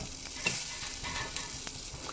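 Steady sizzling of onion frying in a pan, with soft scraping as it's stirred; no voices.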